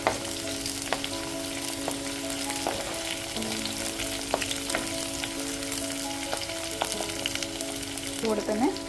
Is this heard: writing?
no